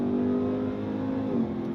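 A 2027 RAM 1500 TRX SRT pickup truck engine revving up under load, a throaty steady roar rising in pitch, heard close from inside the cab.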